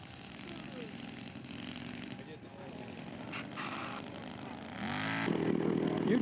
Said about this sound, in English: Jason Tate coming in for a touch and go.